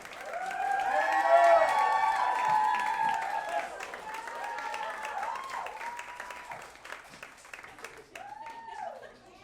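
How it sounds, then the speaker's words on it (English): A crowd at a New York City stand-up comedy show claps and cheers for a comic, with whoops and shouts swelling early and then tapering into scattered clapping and voices. "keep that energy, keep that applause going for this first comic"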